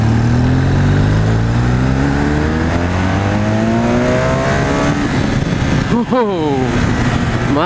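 A 2016 BMW R1200R motorcycle engine revs up with rising, sustained roar, heard close from the rider's position with wind noise, then a quick shift and another climb in pitch.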